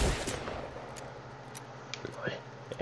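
Rapid gunfire from an enemy player in Fortnite, a dense spray of repeated sharp shots with a few louder cracks standing out over steady game noise, fairly close and continuous through the moment.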